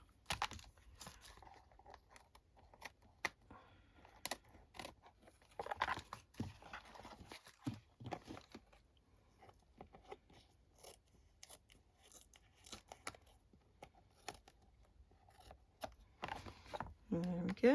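Scissors snipping paper on a handmade altered board book, a series of scattered, close, crisp cuts and rustles at irregular intervals, fairly quiet, with brief pauses between bursts.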